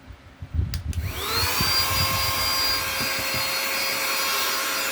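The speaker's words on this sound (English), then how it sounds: "I'm going to get my trusty little vacuum" A small handheld vacuum cleaner used to clean a PC starts after a couple of knocks and spins up to a steady whine, then runs on close and loud.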